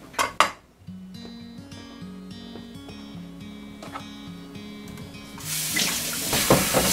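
Eggplant being rinsed in a kitchen sink, with clinks and knocks of dishes and a tonal trickle of water, then the tap opening into a louder, steady rush of running water near the end.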